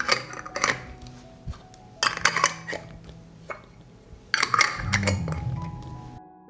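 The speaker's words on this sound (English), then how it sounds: "I close the jars with clean and new lids." Glass jars are closed with clean new metal lids, bursts of clinking and clattering glass and metal in separate bunches, close up, ending with a duller rumbling scrape.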